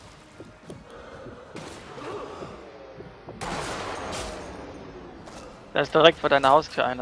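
Rifle shots ring out in the sniper video game Sniper Elite V2 as a few sharp cracks spread through the clip, while someone talks near the end.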